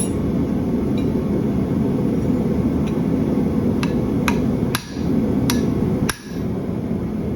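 Steel struck with a hammer on the side of an anvil in a farrier's shop, a handful of sharp, ringing metallic taps spaced about a second apart over a steady background hum.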